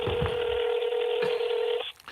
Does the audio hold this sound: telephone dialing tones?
yes